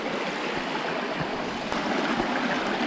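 A stream flows over slippery, mossy rocks at a river crossing on the trail to Tinakayanan Falls, giving a steady, close rush of rippling water with no voices.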